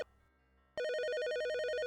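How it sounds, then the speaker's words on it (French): A telephone rings in an audiobook: a short faint tone, then a loud continuous electronic ringing with a steady warbling pulse. "lorsque le téléphone sonna"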